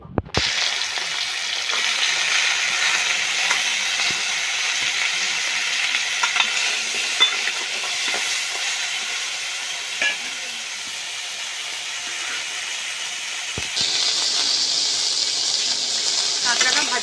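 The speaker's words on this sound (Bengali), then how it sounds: "এখন লবণ হলুদ মাখানো কাঁকড়াটা কড়াইতে ভেজে নেব।" Salt-and-turmeric-coated crab frying in hot mustard oil in a wok, a loud steady sizzle lasting throughout with occasional crackles, close up.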